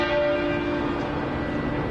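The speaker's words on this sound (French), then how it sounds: "En soirée, les cloches de Westminster ont retenti 99 fois." Westminster's church bells ring out in a sustained, resonant tone that lingers without a break, heard at a distance over a steady background wash.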